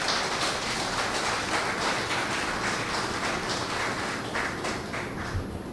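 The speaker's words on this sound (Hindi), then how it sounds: "तो एक बार ज़ोरदार तालियों से स्वागत कीजिए" An audience welcoming a poet onto the stage at a shayari recital claps in a dense, continuous wash of applause that holds steady and even for the whole stretch.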